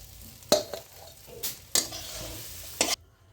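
Aloo paratha potato filling is stirred in a hot pan, making a soft sizzle with several sharp scraping clatters of a spoon against the metal, close and with no talking.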